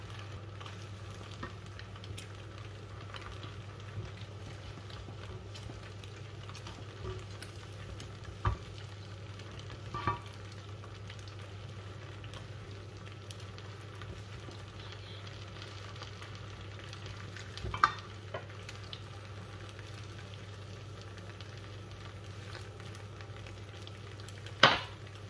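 Pasta with olive oil and olives is stirred in a pan over a quiet, steady low sizzle, with occasional louder scrapes and knocks of a utensil against the pan.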